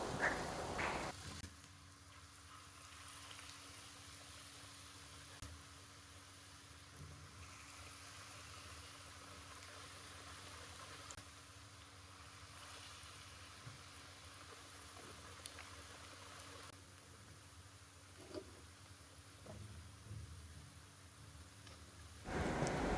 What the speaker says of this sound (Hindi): ऑयल गर्म हो चुका है, अब मैं इसमें पकोड़े तलना शुरू कर दूँगा।